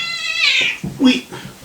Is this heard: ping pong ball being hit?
no